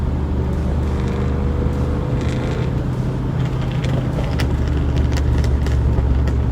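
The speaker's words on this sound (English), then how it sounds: "That just sounds like it's a LS swap." A lowered Mazda RX-8 on wide wheels, fitted with a swapped-in LS V8 engine, drives past with a loud, deep, steady engine rumble that dominates throughout, with no talking.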